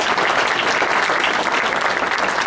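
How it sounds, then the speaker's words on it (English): Sustained audience applause fills the room at a talk on World War I music, a dense, even clatter of many hands clapping without pause. "Let's give him another round of applause."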